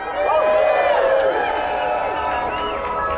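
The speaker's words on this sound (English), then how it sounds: "Can I get a cheer?" Crowd at a theme park opening morning cheering and whooping loudly and steadily, many voices blending into a sustained roar.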